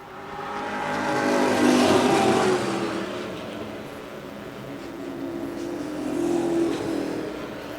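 Stock cars race at Wiscasset Speedway, their engines roaring past in a continuous swelling and fading drone, loudest early and again near the end, with no voices over the din.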